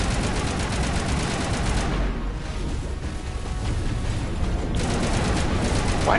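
Sustained, dense gunfire from hacked enemies in a Mass Effect game: rapid overlapping shots that fill the whole stretch, easing slightly midway before surging again.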